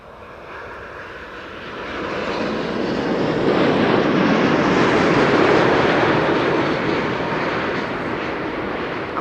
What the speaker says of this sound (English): Wide body is coming in once again